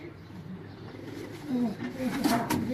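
Champion pigeons perched on a rooftop coo softly with a few brief calls, all under steady background noise.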